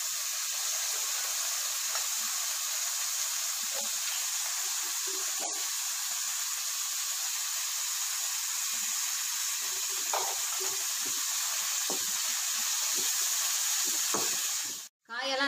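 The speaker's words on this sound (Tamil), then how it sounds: "காயெல்லாம் நல்லா வதங்கட்டும்." Vegetables sautéing in a pan for spicy pasta: a long, even frying hiss with faint, scattered pops and stirring sounds, close and steady, with a brief dip near the end.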